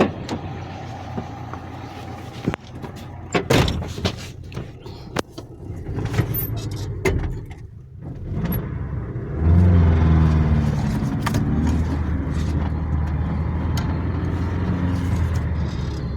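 A car starts and pulls in to park, with a few clicks and thumps first, then a steady engine hum that holds close and loud to the end.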